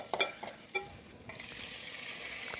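Tomato dropped into a hot frying pan of sautéed aromatics, giving a few sharp stirring clatters followed by a steady, close hiss of sizzling that builds and holds alone.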